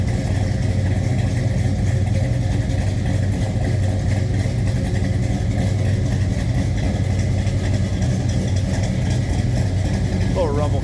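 A 1966 Chevrolet Chevelle two-door hardtop idles with a steady low rumble, continuous and close, with a voice talking over it.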